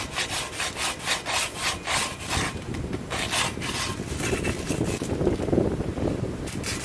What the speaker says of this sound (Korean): 면을 깨끗이 하기 위해서 100방짜리 사포로 계속 문질러 줍니다.